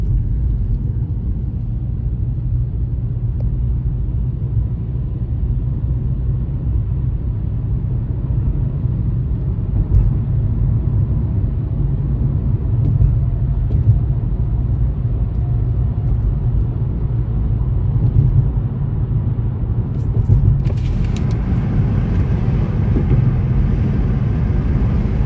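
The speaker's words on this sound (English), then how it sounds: "It's amazing, these helicopters." A helicopter hovers overhead outside a Texas shopping center, a steady, loud low rotor rumble that holds constant throughout with only slight swells and no talking.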